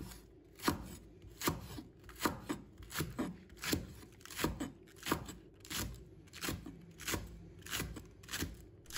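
A knife slices a scallion on a cutting board with steady, close, crisp chops repeating at a regular pace for several seconds, with no talking.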